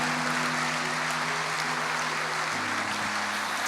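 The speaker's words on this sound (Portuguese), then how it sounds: "A igreja aplauda o Senhor" A church congregation applauds together in a steady, dense wash of clapping that stays loud and even from start to finish, with no voices cutting through.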